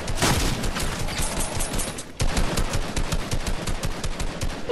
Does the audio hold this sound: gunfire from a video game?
yes